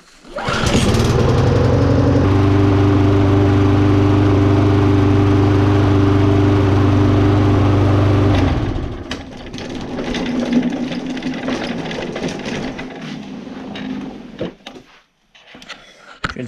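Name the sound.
small lawn mower engine running rough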